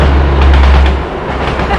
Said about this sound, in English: Invisible train, ghost train just went past, folks.